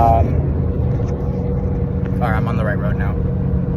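A car cruises along a highway, heard from inside as a loud, steady low engine and road rumble that runs throughout, with a person talking over it partway through.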